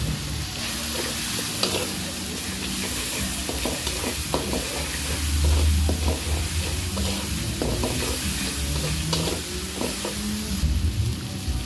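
Potato and egg curry being stirred with salt in a hot pan, a continuous close sizzle overlaid with repeated scraping and clacking strokes of a spoon, steady throughout with no voices.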